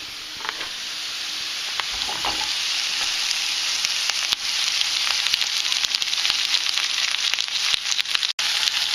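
Finely cut garlic and cherry tomatoes fry in a curry mix for chicken madras, making a continuous crackling sizzle that grows slightly louder, heard up close without speech.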